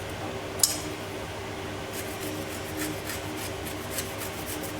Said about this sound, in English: we'll zest 1 lemon